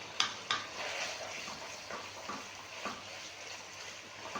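Chicken tossed with white pepper for a creamy handi dish is stirred in a pan, giving soft scraping and light clinks over a faint sizzle, with a couple of sharper knocks near the start and no talking.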